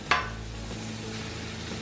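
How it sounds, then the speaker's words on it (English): Bread for a patty melt toasts on a hot griddle, starting with a sharp metallic clack, likely a spatula, then settling into a low, steady sizzle. "I'll flip that over and toast the other side."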